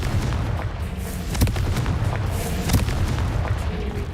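A Confringo blasting spell explodes in Hogwarts Legacy as booming, rumbling blasts with sharp cracks over continuous low combat noise, loud and close, with two stronger bursts standing out.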